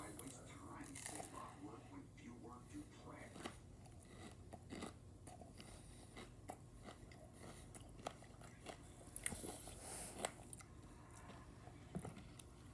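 Someone chews a king-size Reese's Crispy Crunchy bar close to the mic, making soft crunchy bites and moist chewing in an irregular rhythm, faint and intimate, with some quiet speech.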